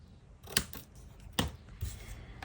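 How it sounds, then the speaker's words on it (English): Close, quiet snips of scissors cutting paper: two sharp cuts followed by a softer third, spaced apart against a low room background with no speech. "Okay, I'm just going to cut that there."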